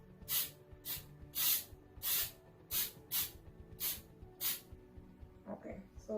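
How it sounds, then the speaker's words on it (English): Seven short hissing bursts from a spray can coating the base of a bottle during a home bottle craft, evenly spaced and close, followed by faint handling noise. "so just spray the base"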